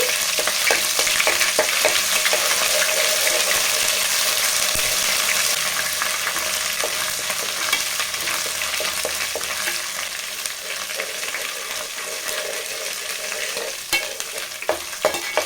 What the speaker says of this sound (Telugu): ఇప్పుడు ఫ్రెష్గా దంచి పెట్టుకున్న అల్లం వెల్లుల్లి పేస్ట్ కూడా వేసేసుకొని ఫ్రై చేద్దాం